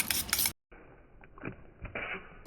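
Egg omelette batter with onion, green chilli, coriander, turmeric, salt and black pepper is mixed in a bowl, giving soft scraping and clinking stirring sounds, quiet and close, broken by a short silence.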